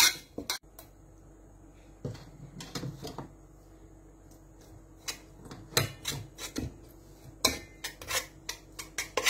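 Ghee being smeared and spread around the inside of a cooking pot before layering rice for chicken biryani, heard as a series of scattered metallic scrapes and light clinks of utensil against pot, close and fairly quiet.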